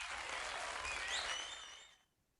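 Applause sound effect: a short burst of clapping and cheering that swells briefly and then cuts off after about two seconds, standing alone.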